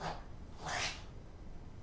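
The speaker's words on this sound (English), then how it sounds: "that's my dog coughing up something" A pet dog coughing and hacking to bring something up, one short, harsh burst close by in a quiet indoor room.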